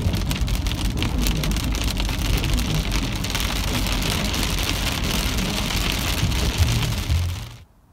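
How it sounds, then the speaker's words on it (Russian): Heavy rain pouring steadily, a dense loud hiss of drops on surfaces with low rumbling underneath, continuous until it cuts off at the end. "Такой сильный дождь, невозможно ехать."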